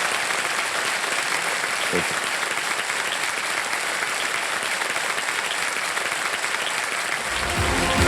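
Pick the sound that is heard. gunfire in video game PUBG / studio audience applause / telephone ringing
studio audience applause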